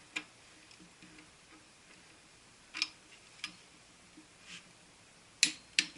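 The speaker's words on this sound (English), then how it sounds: "we want to hear the torque wrench click" A torque wrench clicks while bell housing bolts are tightened on a 1957 Chevy 235 engine: a few sharp, faint clicks spaced seconds apart over quiet shop background.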